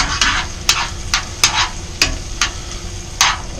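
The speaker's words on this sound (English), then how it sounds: "I'm going to start toasting one side of the bread" Buttered bread toasts in a pan beside cooking onions, with a steady close sizzle broken by about eight sharp scraping knocks from a spatula, and no talking.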